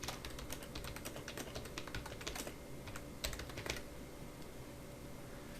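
Rapid typing on a computer keyboard while writing in Microsoft Word, a steady run of light clicking keystrokes with a few louder taps, close and alone.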